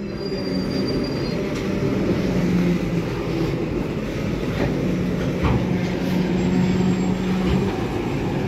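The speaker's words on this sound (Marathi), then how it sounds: "ही पाठीमागे माझ्या ट्रेन आहे, पटरी घेऊन आलेली आहे" A train hauling a load of railway track rails near Beed, India, rumbles steadily and loudly at close range, its wagons giving a continuous low roar with faint wheel squeals and clatter throughout.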